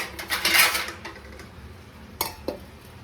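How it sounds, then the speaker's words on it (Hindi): Clinking of a plate set over a dish while making gulab jamun at home, a brief burst of rattling contact followed by two sharp taps, fairly close and moderately quiet. "अब इसको ढक देते हैं प्लेट से।"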